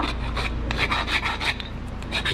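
A brake pad for a 2016 Nissan Pathfinder being ground down by hand to fit the caliper bracket, a close steady rasping scrape in repeated strokes, without talk.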